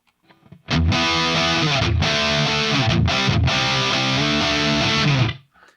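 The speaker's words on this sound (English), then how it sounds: "I'm going to go with the Fireman, which I assume is kind of a Friedman type Marshall S sort of thing, only super high gain" An electric guitar plays through the NUX Mighty Plug headphone amp on its Fireman high-gain model, giving loud, heavily distorted chords in several sustained bursts with short breaks between them.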